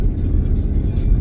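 A car driving along the road on the Eyre Peninsula heading toward the Nullarbor, heard from inside as a steady, close, low engine and tyre rumble throughout, with no talking.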